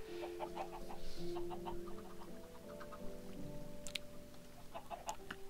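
Chickens cluck repeatedly in a Minecraft-style game soundtrack, layered over a steady synthetic musical drone with occasional sharp clicks.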